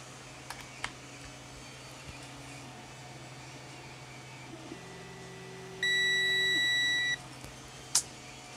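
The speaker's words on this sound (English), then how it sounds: "I've got to test pins 1 and 3 and see if it beeps." A multimeter continuity test gives one steady, high-pitched electronic beep that holds for just over a second, clear against a quiet room hum with a few faint clicks.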